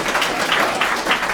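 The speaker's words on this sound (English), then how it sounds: "Huge round of applause." Audience at a Hack the Burgh 2016 hackathon presentation breaks into a short burst of applause, dense clapping at moderate loudness lasting just over a second.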